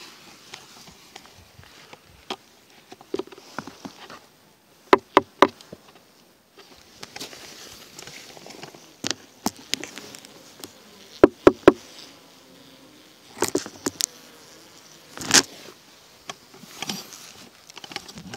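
Honeybees in a hive in November give off a faint, low hum broken by frequent sharp taps and knocks close by, irregular and scattered with no voices.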